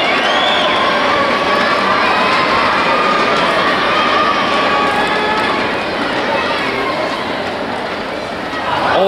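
A large crowd of French fans cheers and shouts continuously at a table tennis match at the 2013 World Championships, a loud, dense roar of voices that fills the whole stretch.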